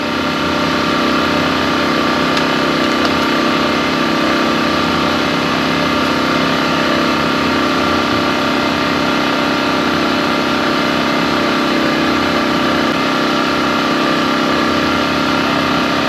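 A Coleman 5000ER generator with a Tecumseh engine runs steadily throughout, a loud, constant mechanical drone with a low hum and no pauses or changes in pace.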